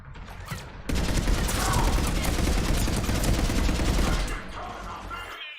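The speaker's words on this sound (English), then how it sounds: "We're getting a lot of mortar fire." Video game mortar fire and automatic weapons roar in a sustained, dense barrage of rapid cracks that cuts off abruptly, leaving a quieter battlefield rumble.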